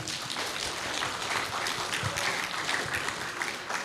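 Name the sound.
conference audience applause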